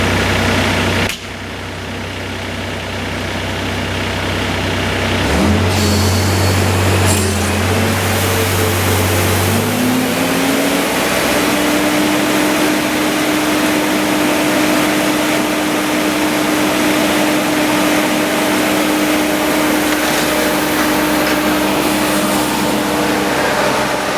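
Hako Citymaster 600 street sweeper engine starting up and settling into a steady, loud idle, a constant mechanical drone that holds evenly to the end with no voices.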